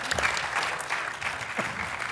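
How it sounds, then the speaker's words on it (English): Applause from the audience after a panel session on women in Korean defense: steady, moderate clapping from a room of people, continuous and a little distant throughout. "please let's give them another round of applause"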